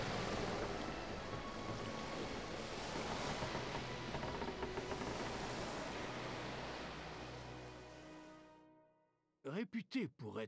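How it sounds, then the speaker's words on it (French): Boat and sea ambience in Final Fantasy XIV, a steady wash of waves and wind around a ship that fades out, followed by a short different sound. "Il a trop de bruit de bateau."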